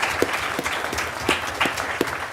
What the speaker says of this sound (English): So you guys deserve a round of applause.